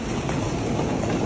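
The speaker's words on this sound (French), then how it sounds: "on est au Subway, donc le métro pour ceux qui ne comprennent pas." A London Underground train rumbles in a continuous, loud, broadband roar, like a ride heard from inside the carriage, with no voices.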